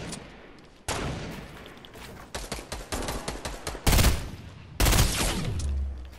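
Gunfire in the Fortnite video game, with a rapid string of sharp shots followed by two louder, heavier blasts, close and punchy with brief gaps between bursts.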